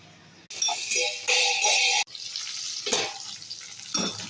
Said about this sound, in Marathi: भेंडी छान अशी परतून घेऊ।